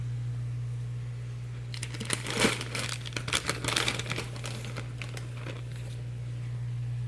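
Crinkling of a fish food packet beside a home aquarium, a burst of close, crisp plastic crackles lasting a few seconds over a steady low tank hum.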